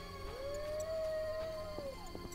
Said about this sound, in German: Ich höre Hunde.